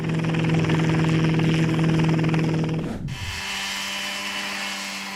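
Engine of an ultra-minimalist homemade helicopter with no closed cockpit, a loud close droning whine that runs steadily, then abruptly drops in pitch and settles into a lower, quieter hum.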